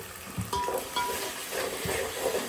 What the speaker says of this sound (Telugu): ఇట్లా ఇట్లా కలపాలి